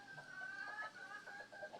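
Soft clucking from bantam chickens, a few quiet murmured clucks repeating over a faint steady background, fairly close.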